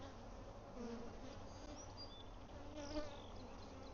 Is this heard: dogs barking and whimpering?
no